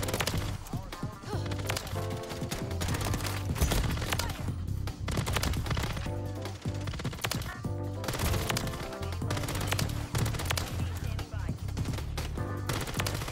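RAM-9 rifle fire in Call of Duty: rapid automatic bursts crackle almost continuously, mixed with loud game sound and a steady musical background.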